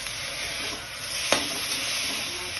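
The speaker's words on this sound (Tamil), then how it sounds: "இந்த அளவுக்கு தக்காளியும் இந்த இதையும் வதங்கிக்கணும்." Tomatoes, green chilies, mint and curry leaves sauté together in a pan for a Tamil mint-coriander chutney, making a steady close sizzle with one brief scrape of stirring partway through; no one talks.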